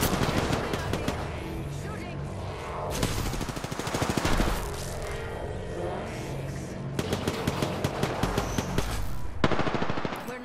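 Rapid automatic gunfire in the battle royale game Apex Legends, long rattling bursts broken by brief pauses, loud and close, with occasional voices talking over the shooting.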